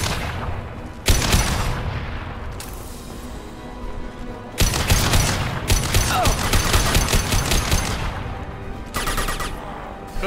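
Gunfire and explosions in Mass Effect 2, with loud bursts of rapid shots and booming blasts in several clusters over a constant rumbling combat background, and no talking.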